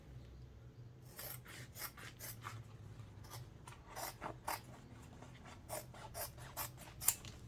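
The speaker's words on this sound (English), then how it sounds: "I don't need all of this vinyl, so I'm just going to cut it." Scissors snip through a sheet of craft vinyl in a run of crisp, rhythmic cuts, close and fairly quiet, with short pauses between bursts of snipping and a low room hum underneath.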